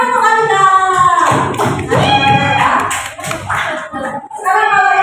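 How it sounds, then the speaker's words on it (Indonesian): Schoolchildren clap together in a classroom during a lesson, a burst of rhythmic hand claps and taps mixed with children's voices and chatter, loud and close. "Oke, tepuk tangan untuk kalian."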